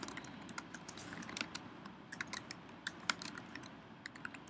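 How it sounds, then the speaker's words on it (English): Quick, irregular keystrokes clatter on a computer keyboard while a contact form is filled in, close and fairly quiet, with a few sharper clicks and no one speaking. "then we can just type in something"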